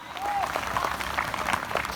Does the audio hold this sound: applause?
yes